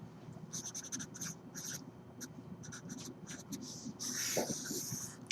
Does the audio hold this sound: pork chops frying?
no